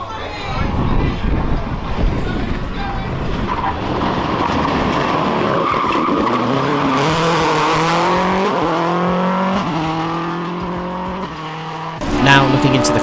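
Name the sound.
Subaru S12 WRC rally car driving at speed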